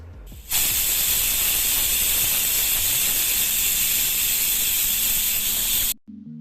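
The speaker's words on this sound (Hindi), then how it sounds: "कुकर ने बड़ा ही शोर मचाया हुआ है।" A pressure cooker lets out a loud, steady, high hiss of escaping steam for several seconds before it cuts off abruptly.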